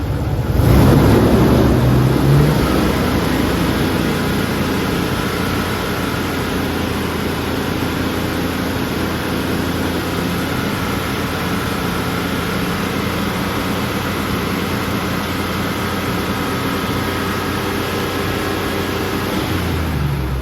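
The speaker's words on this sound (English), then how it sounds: "Try revving it up." A loud, steady Jeep Wrangler engine roar with a clogged catalytic converter runs throughout, briefly louder at the start and then holding a constant drone with a high whine above it.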